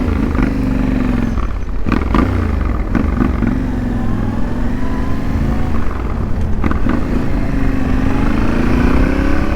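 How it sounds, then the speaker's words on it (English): A 2023 Yamaha Tenere 700 fitted with a Huzar exhaust runs close and loud, its throaty engine note rising and falling through the rev range with a few sharp clattering bursts. "I definitely prefer the sound now than the stock sound. It's loud enough, give a little more throaty sound."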